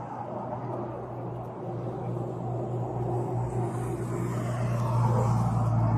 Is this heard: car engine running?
yes